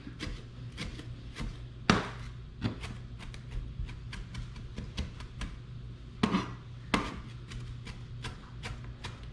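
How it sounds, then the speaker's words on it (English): A rocking knife chops food on a cutting board, giving a series of close, irregular taps and knocks with a few louder thuds, quiet in between and no one speaking. "So chop it up pretty small."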